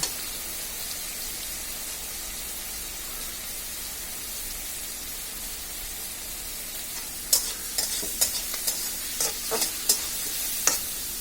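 Washed fish frying lightly in a pan: a steady close sizzle, with sharper spits and pops crackling in over the last few seconds, and no voices.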